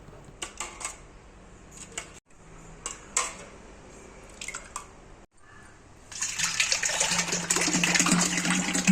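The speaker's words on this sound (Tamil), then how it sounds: "கூழ் நல்லா ஆறுனதும் தண்ணி ஊற்றி நல்லா கரைச்சி" A few scattered taps and clicks, then water pours steadily and loudly into a container of cooled millet gruel for the last few seconds.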